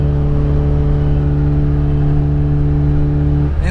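Engine of an Opel Omega 2.5 V6 pulls hard after a gear change during a drag race, a steady loud droning roar with a constant pitch held for several seconds before it briefly drops off at the end.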